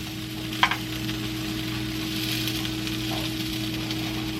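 A cheese sandwich frying in a pan just after being flipped, a steady soft sizzle running throughout with a brief clatter near the start, heard close and alone.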